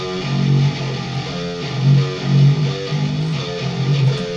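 Electric guitar run through Reaper's built-in ReaPitch pitch-shifting plugin for a DOOM Eternal cover, playing a low, thick, slightly processed riff with sustained notes, close and moderately loud with no talking.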